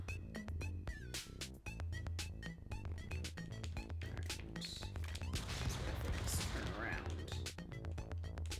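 Rapid shotgun blasts in the game Stick Fight: The Game, a dense barrage of sharp cracks over a looping music track, with a thicker crashing burst midway.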